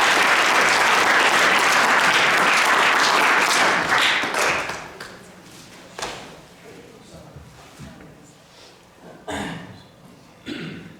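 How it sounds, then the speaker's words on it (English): Audience at a high school boys soccer banquet breaks into loud sustained applause for about four seconds, then it fades into scattered claps, coughs and background murmur with some talk. "So if we could give a round of applause for Ken."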